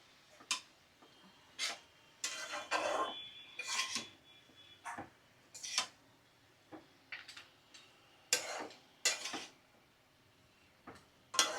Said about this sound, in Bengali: এখন চলো ভালো করে নাড়াচাড়া করে মশলার সাথে বাঁধাকপিটা আমি মিশিয়ে নিই